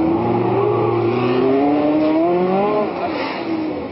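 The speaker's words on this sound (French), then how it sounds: "la voiture de Johnny Servoz-Gavin, la Matra de Formule 2, est revenue maintenant à son stand" A Matra Formula 2 race car engine at the 1967 Monaco Grand Prix, loud and close, its high-pitched whine rising and falling through gear changes as it revs.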